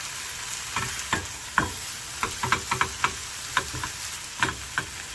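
Dried pollack strips and green onion are stir-fried in a pan for a red pepper paste side dish: a soft sizzle runs beneath irregular, distinct scrapes and clacks of a utensil tossing the mixture, with no talking.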